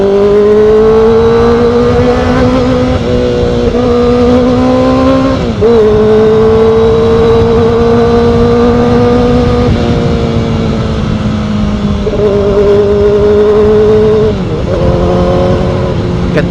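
A Kawasaki ZX4RR motorcycle engine screams loud and close while riding, holding high revs with brief dips and climbs at each gear change, a buzzy continuous roar over wind rush.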